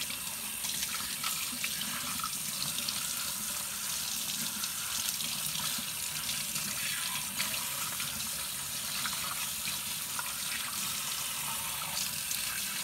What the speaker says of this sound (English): I'm going to go over to the sink and rinse both of these out thoroughly